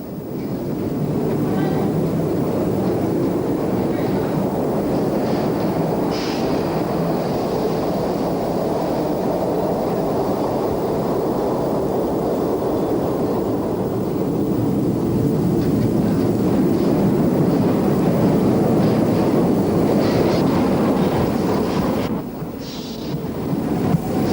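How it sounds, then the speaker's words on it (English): A Glasgow Underground train rumbles steadily on the subway line as a failed unit is pushed by the following train into a four-car combination. The low roar and rattle hold for most of the stretch, then ease near the end. "At Buchanan Street, a failed train is pushed through by the following train, creating a four-car combination."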